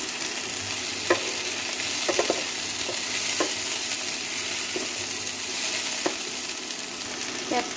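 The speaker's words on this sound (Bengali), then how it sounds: "ক্যাপসিকাম 1 মিনিটের মতন নেড়ে নিয়েছি।" Three kinds of chopped capsicum sizzle with onion in a pan, a steady frying hiss broken by sharp clicks of a spatula stirring at irregular intervals.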